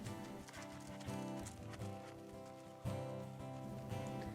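Muffled hoofbeats of a horse moving at a slow, uneven pace on soft ground in a round pen, with faint background music underneath.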